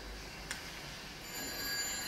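An old telephone ringing inside an English phone booth in a rural setting in the game Everybody's Gone To The Rapture, a faint ring heard against quiet ambient background hiss, with no speech.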